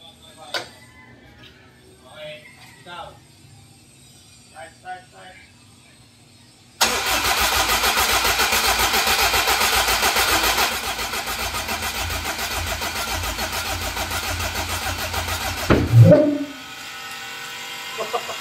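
A Honda K24 car engine cranks and starts, then holds a loud, steady idle before a sharp rev near the end, with people talking before and around it.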